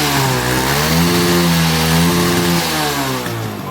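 A Suzuki GN125 motorcycle engine with excessive fuel consumption and a smoking exhaust runs loud and close, revving up and easing off in steady swells.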